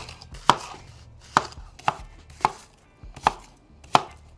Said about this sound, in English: We're just going to give this a rough chop today.